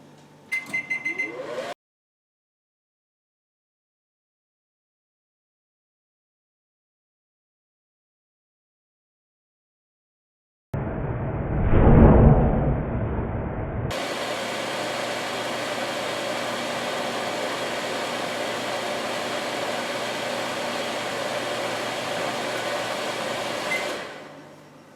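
A microwave steaming vinegar water for cleaning: after a brief beep and long silence, a clunk starts a steady, loud whirring hum that runs unbroken for about ten seconds before cutting off.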